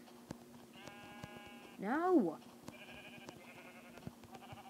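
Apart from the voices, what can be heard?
sheep bleating in the video game Minecraft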